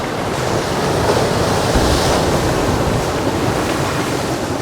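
Ocean waves surge and wash around rocks on Whale Beach under a smoke haze, a continuous loud rush of water with gusty wind noise buffeting the microphone throughout.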